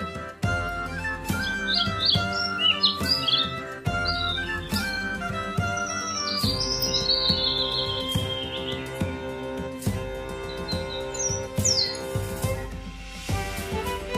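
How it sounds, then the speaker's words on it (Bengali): A dove calls from a tree with repeated high, quick bird notes scattered across the stretch, moderately loud over continuous instrumental music. "ঘুঘু পাখি ডাকছে গাছে।"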